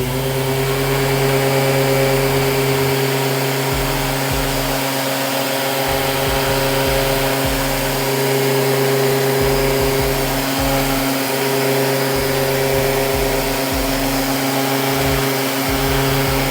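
A steady, loud machine whine with a constant droning hum runs throughout, a Mirka orbital sander working a layered car hood up close, with no talking.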